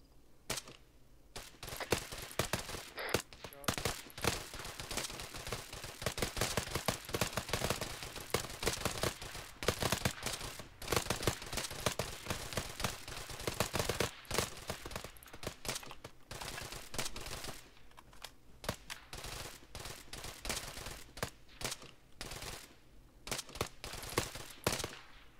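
Sustained automatic gunfire in Arma 3 during a night military-simulation operation, dense rapid bursts and volleys running almost continuously, loud and close with only brief pauses.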